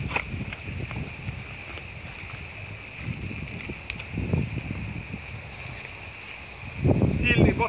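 Wind buffets the microphone in low gusts over a faint steady hiss, with a stronger gust toward the end, on the Southern Bug river in winter; no one speaks.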